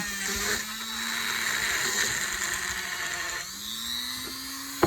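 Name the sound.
Dremel rotary tool polishing a sterling silver ring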